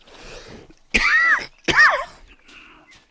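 A person clears their throat and coughs while playing a hunting game: a soft lead-in, then two loud, close, rasping bursts about a second apart, fading to quiet.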